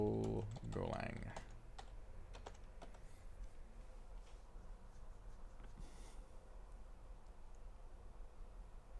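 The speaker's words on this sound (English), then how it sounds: "I would just type in this code right here" Typing a command on a computer keyboard: a quick burst of key clicks in the first second and a half, then sparse faint taps over a low steady hum.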